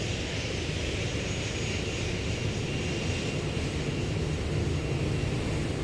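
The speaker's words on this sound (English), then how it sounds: "I guess before that arrival we have a liftoff" An airliner lifting off at Seoul Incheon Airport produces a continuous, dense jet roar that holds steady throughout, loud and unbroken with no voices.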